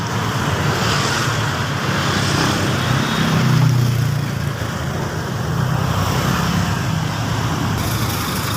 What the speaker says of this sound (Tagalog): Traffic kahit Sabado.